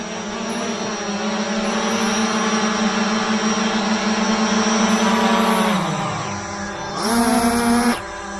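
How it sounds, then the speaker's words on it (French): Two small camera drones, a Hubsan Zino 2 and a FIMI X8, descend to land outdoors: a steady, loud multi-rotor whine with layered harmonic tones that drops in pitch, then a brief surge of higher-pitched buzzing before cutting off. "Alors ce que je vais faire maintenant, je vais les faire atterrir déjà."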